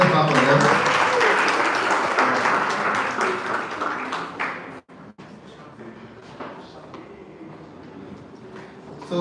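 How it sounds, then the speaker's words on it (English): Audience applauding at a live event, a dense, loud burst of clapping for about four seconds that thins out and fades to scattered claps and room noise. "Please let's clap for them."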